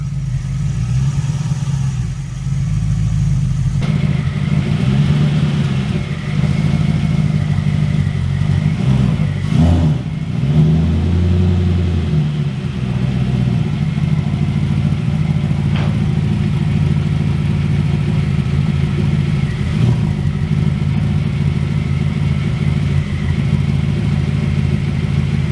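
A V8 engine fitted in a Porsche Cayman runs close by with a steady, loud drone, briefly deepening around a mid-point rev before settling back to an even hum.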